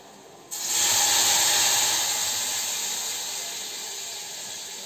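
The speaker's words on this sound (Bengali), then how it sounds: "এখন এটাতে আমি ডালটা ফোড়ন দিয়ে দিলাম।" Lentils hit hot garlic tempering oil with a sudden loud sizzling hiss that bursts in and then slowly fades, close up with no voices.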